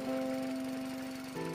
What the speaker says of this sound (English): he will probably use a cable layer that places the cable a few inches underground